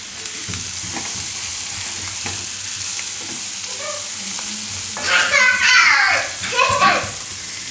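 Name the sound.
onion frying in pan for sandwich filling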